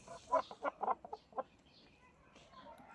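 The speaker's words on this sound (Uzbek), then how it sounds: "Xo'roz." A rooster at a farm in Uzbekistan gives a quick run of loud, close clucks in the first second and a half, then it goes quiet and faint background noise remains.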